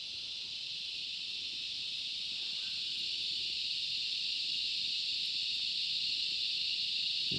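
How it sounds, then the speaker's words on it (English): Cicadas drone at sunset with a continuous high, even buzz that holds steady throughout, fairly faint, against quiet outdoor background, with no one speaking. "You hear the cicadas having a nice blast."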